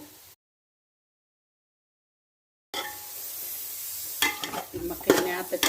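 Chopped tomato sautéing in a hot pan for chicken biryani, a steady close sizzle with intermittent scrapes of a spatula stirring, starting after a stretch of silence and with no speech.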